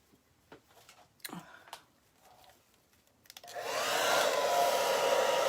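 A hair dryer switches on partway through, blowing a loud, steady whooshing roar at close range to dry alcohol ink on a glass vase, after a few seconds of quiet handling clicks and taps.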